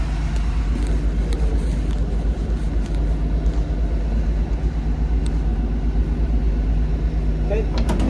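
A 1964 Dodge A100 van driving and going through the gears, a steady loud engine rumble and road drone from inside the cab, continuous throughout.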